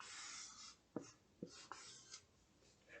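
A pencil writing letters on paper, faint scratchy strokes with a few short taps, quiet and close.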